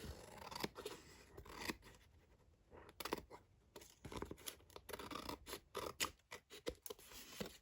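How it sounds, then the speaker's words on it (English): Scissors snip away extra paper on a handmade folio album, a close, quiet run of crisp cuts and paper rustles in an irregular rhythm with no voices. "So I'm just going to cut that off."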